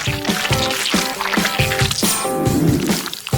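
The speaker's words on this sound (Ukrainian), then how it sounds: "Заливаємо знову нотелою." Nutella being poured into a chocolate mould, giving a soft, thick squishing and dripping sound over steady background noise and music.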